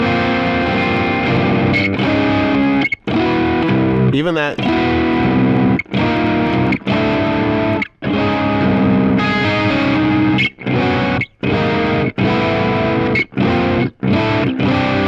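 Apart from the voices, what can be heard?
electric guitar chords through Axe-Fx III distortion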